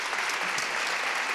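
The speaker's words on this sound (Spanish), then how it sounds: "Pues demos la bienvenida a Rosa con un fuerte aplauso" A conference audience breaks into a short burst of applause, steady, dense clapping from a crowd heard alone at moderate distance.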